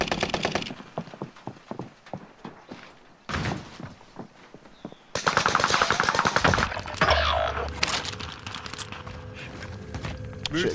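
Video game gunfire in Caldera: rapid automatic bursts and single shots, loud and close, with a sharp rise in intensity midway through a busy mix of effects.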